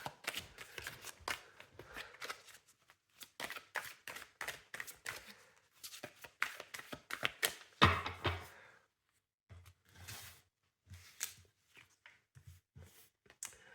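Tarot-style cards being reshuffled by hand during a reading, a run of quick papery riffles and slaps in bursts with brief pauses, close and clear with no talking.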